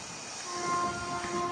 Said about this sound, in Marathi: ट्रेन आली ट्रेन आली ट्रेन आली.